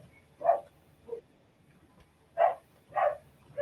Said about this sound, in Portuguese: falei que meu cachorro ia fazer barulho?